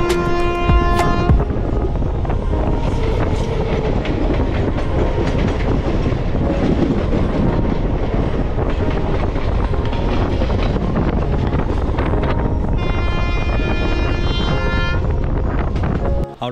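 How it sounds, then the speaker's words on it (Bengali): A passenger train running on rails between Howrah and Uluberia in West Bengal gives a loud, steady rumble with rhythmic clickety-clack from the wheels and wind buffeting the microphone throughout. "হাওড়া থেকে 24 কিলোমিটার পথ পাড়ি দিয়ে ট্রেন আমাদের এসে পৌঁছেছে উলবেড়িয়া"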